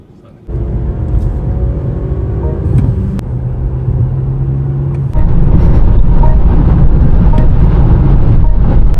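A BMW S1000RR motorcycle engine roars loud and steady at high speed, with a sustained rumble and wind noise that steps up further partway through as it pulls harder.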